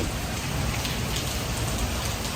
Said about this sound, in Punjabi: ਮੀਂਹ ਪੂਰਾ ਤੇਜ਼ ਆ ਰਿਹਾ